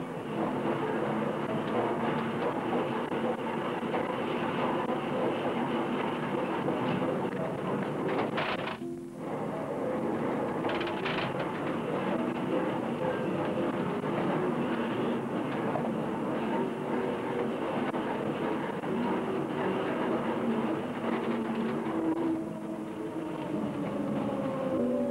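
A tram runs on rails through Aarhus, a steady rolling rumble with metallic wheel noise that holds for the whole stretch. Near the middle comes one brief dip, and then the running sound carries on without a break.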